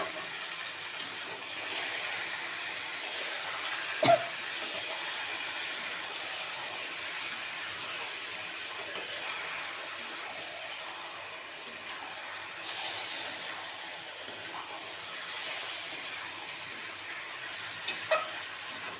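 Fish sizzles steadily as it fries in a cooked-down spice masala, a continuous close crackling hiss with a few sharper pops and stirring clicks, no talking.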